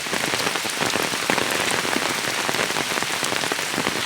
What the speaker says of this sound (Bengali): দেখেন বৃষ্টির পরিস্থিতি দেখেন কি পরিমাণ বৃষ্টি হচ্ছে